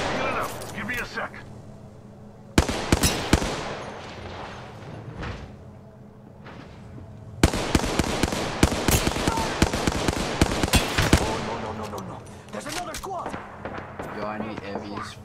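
Gunfire in the shooter game Apex Legends: rapid bursts of sharp shots crackle in two loud stretches, separated by quieter moments, with voices talking over the action.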